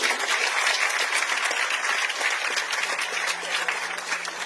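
Audience at a hospital solar power commissioning ceremony claps in a sustained, even round of applause from a crowd, filling the whole stretch without speech over it.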